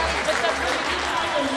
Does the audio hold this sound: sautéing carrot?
no